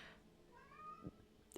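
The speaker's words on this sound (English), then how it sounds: "The cat's going crazy again." A cat gives a faint, rising meow in the background of a quiet room, short and distant, followed by a couple of soft knocks.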